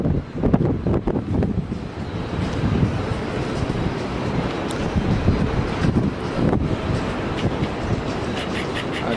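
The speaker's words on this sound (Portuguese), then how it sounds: "Tá ventando muito aí, ó." Strong wind gusting at Barra da Tijuca beach in Rio buffets the microphone with loud, continuous rumbling roar that swells and dips throughout, with no talking heard.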